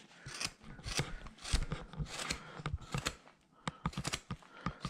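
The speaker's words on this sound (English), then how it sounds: "I'm going to start rounding this with this gouge to get some shape in here" Wood carving gouge paring and rounding a carved Mrs. Santa Claus figure holding a candy cane, producing a run of close, crisp scraping cuts in an irregular rhythm, with no talk.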